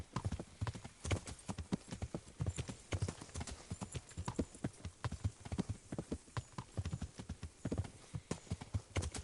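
Rapid hoofbeats of a galloping horse in the video game Kingdom Come: Deliverance thud steadily and close, an uneven clattering rhythm that carries through the whole stretch.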